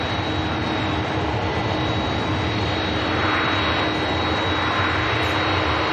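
A Ryanair jet airliner rolls out at Manchester Airport, its engines giving a loud, unbroken roar that holds steady throughout.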